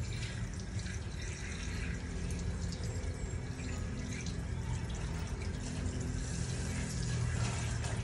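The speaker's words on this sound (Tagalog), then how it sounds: "malakas pa rin ang tubig" Steady rushing of water pouring from a tap, continuous and fairly close, with no speech over it.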